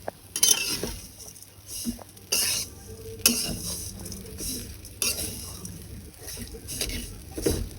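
Semai vermicelli is stirred in a karahi over the stove, with repeated bursts of scraping and rustling strokes over a light sizzle, loud and close.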